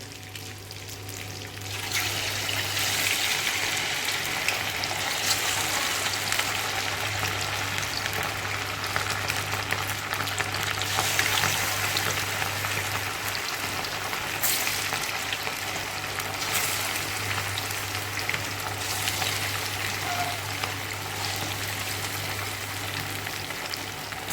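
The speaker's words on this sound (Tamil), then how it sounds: "எண்ணெய் சூடாயிடுச்சு. நம்ம சிக்கனை பொரிச்சு எடுக்கலாம்." Chicken pieces for chicken 65 deep-frying in hot oil, a dense continuous bubbling sizzle that swells after a quiet start and holds steady for the whole stretch, with occasional faint clinks and no talking.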